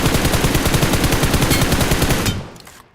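Rapid automatic gunfire in the BGMI battle royale video game, aimed at a buggy's tyre, a loud steady burst of shots that stops abruptly and leaves a short decaying tail.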